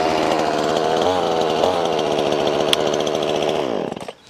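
A chainsaw runs loudly and steadily up close, its engine revving briefly a couple of times before cutting off and winding down.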